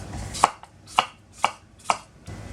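Knife chopping onion, red pepper and other vegetables for a venison Asian stir fry, four evenly spaced, crisp board strikes close by, with no talk.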